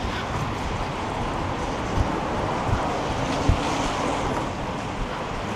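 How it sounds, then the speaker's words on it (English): Strong storm wind roars in a city centre street in Glasgow during Storm Amy, a loud continuous broadband rush with a few brief gust thumps and buffets against the microphone, no voices. "The wind's blowing behind you and you run."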